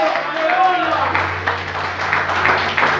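Church congregation clapping during a sermon; scattered, uneven applause with voices and shouts mixed in, moderately close.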